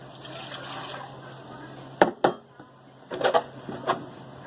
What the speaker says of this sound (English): Now into that I'm pouring in 2 cups of milk.